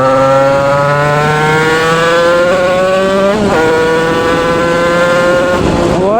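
A Yamaha DT 86 motorcycle engine revs loudly and steadily while riding, its pitch climbing and dipping through gear changes, close and continuous with no talk.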